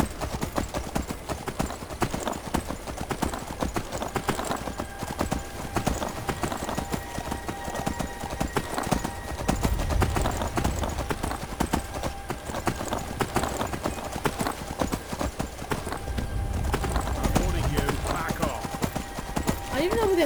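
Galloping hooves of Shadowmere, a horse in the video game Skyrim, keep up a dense, continuous clip-clop throughout with a few heavier thuds, and a voice is heard at times.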